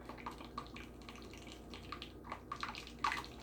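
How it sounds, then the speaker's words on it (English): Simmered homemade sauce is poured into a jar, a faint, close, liquid pour with soft glugs and drips that grow a little louder near the end. "And it's going to cook more when I pour it in the jar."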